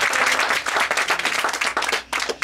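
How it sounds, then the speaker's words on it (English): Applause from an audience greets a performer named Paige, a dense, steady wash of clapping that holds loud through most of the stretch, then briefly dips near the end before picking back up. "Big round of applause for Paige."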